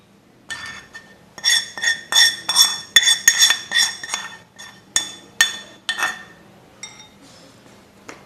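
A spoon stirs mango pickle mixed with hot oil in a metal vessel, repeated rhythmic scraping clinks in quick bursts, loud and close, thinning out to a few sparse taps at the end.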